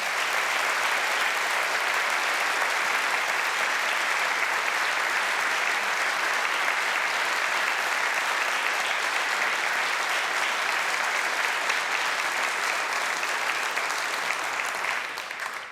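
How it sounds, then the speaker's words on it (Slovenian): Sustained audience applause at the 58th GZS business achievement awards ceremony, steady and full-bodied for about fifteen seconds, starting to thin out at the very end. "In te misli so gotovo vredne glasnega aplavza."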